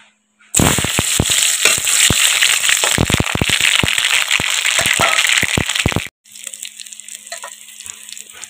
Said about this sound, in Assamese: কেঁচা জলকীয়া দুটা নহৰু সৰিয়হ এইখিনি অকণমান ৰঙাকৈ ভাজি ল'ব লাগিব তেলত